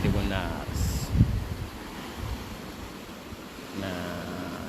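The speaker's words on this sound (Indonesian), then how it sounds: "Desiran ombak, sesekali angin laut menghembus ke daratan bagian timur Kabupaten Bulukumba" Sea waves wash against the cliffs of Apparalang beach in Bulukumba, South Sulawesi, with gusting sea wind buffeting the microphone, a steady rushing roar that swells and eases as someone talks over it.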